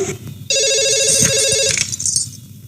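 A telephone rings in a Telugu movie scene, a steady electronic ring tone that starts abruptly and sounds continuously for over a second before cutting off, with faint background noise.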